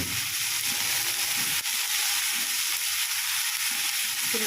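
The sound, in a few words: stirring garlic and ginger paste frying in pan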